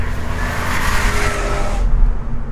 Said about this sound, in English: there's a bit of buzz from the 4-cylinder engine